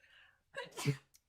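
A single sharp sneeze, close and fairly loud, preceded by a soft breathy intake and followed by a brief quiet click.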